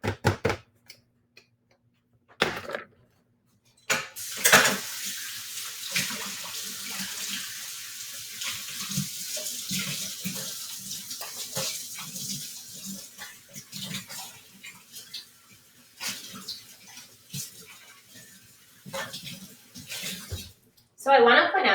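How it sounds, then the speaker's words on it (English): Running tap water splashes into a kitchen sink while a peanut butter-coated measuring cup is rinsed, the flow starting, stopping and restarting in uneven bursts, close and fairly loud, with brief talk between. "the reason I can just give this a little rinse after using the peanut butter"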